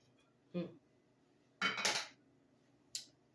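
A fork clinks against a plate of salted pecan cinnamon rolls in three separate light taps and scrapes, close and quiet, with a longer scraping clatter in the middle and silence between.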